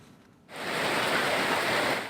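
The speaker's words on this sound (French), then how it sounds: "Forte pluie à Mosikro, sous-quartier de la commune d'Atekoubé." Heavy rain pours down in the Mosikro neighbourhood of Attécoubé, a dense, steady hiss that starts suddenly after a short quiet moment and then stays loud and even.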